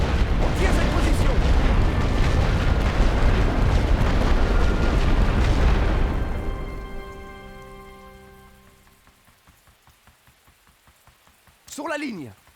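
Artillery barrage fire in the trench-warfare strategy game The Great War: Western Front, a dense roaring rumble of continuous blasts that fades out over several seconds into quiet ticking, followed by a brief whistling sweep.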